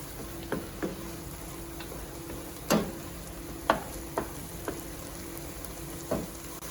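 Zuppa Toscana ingredients sizzle softly in a pot, a steady low frying hiss broken by a few sharp clicks and scrapes of stirring, with no voices.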